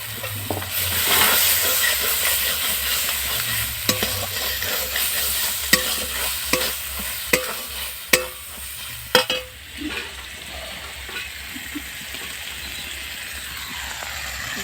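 Ginger paste fries and sizzles in hot oil for a restaurant-style chicken curry while a utensil repeatedly scrapes and stirs the pan, with sharp clinks over a continuous crackling hiss.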